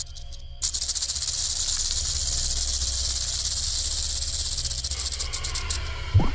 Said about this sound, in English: The older the rattlesnake gets, the longer its rattle.